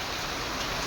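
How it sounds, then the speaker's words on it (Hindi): Steady rain falls in a quiet rural spot, a dense, even hiss of drops on surfaces that goes on without any break. "और देखो ये बारिश"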